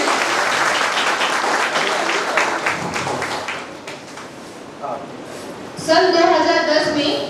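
A seated audience at a Hindi comic poetry event applauds warmly in sustained clapping for a renowned humorous poet. The clapping fades near the end and a voice begins speaking over its tail.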